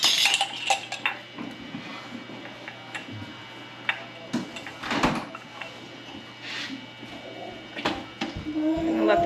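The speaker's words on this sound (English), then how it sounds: "I'm gonna throw 2 more jars in the pot really quickly" Glass canning jars clink and knock as they go into a pot for sanitizing while Concord grape jam is being made, a cluster of sharp clatters and taps over steady kitchen background noise.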